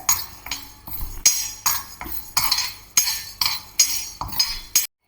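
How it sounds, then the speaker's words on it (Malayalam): Urad dal roasting in a hot pan, stirred with a metal spoon: about a dozen sharp, evenly spaced clinks and scrapes against the pan, close and fairly loud, with a light rustle of lentils between strokes. "അപ്പോൾ നമുക്ക് ഒന്ന് വറുത്തെടുക്കാം പാൻ ചൂടായിട്ടുണ്ട് അതിലേക്ക് ഇത് ഉഴുന്ന് പരിപ്പ് ചേർത്ത് കൊടുക്കാം"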